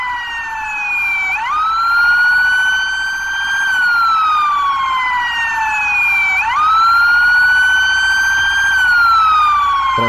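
A police siren in the GTA MTA RP video game wails loud and continuous, its pitch rising and falling in long slow sweeps, alone with no talking.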